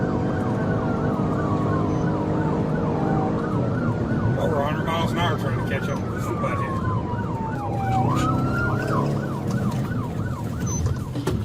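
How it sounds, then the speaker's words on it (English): A police car siren wails and yelps from inside the cruiser, recorded by its dash cam at high speed, rising and falling over road and engine noise while someone talks. "even though he has his emergency lights on and his siren blaring, the car does not stop."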